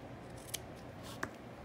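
Sharp snips of scissors cutting paper scraps, two crisp quiet cuts spaced apart over a soft room background.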